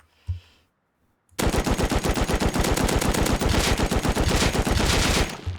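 Rapid sustained automatic fire from a homemade M2-like rifle in the video game Rust, a loud continuous burst of about four seconds after a single short shot and brief silence.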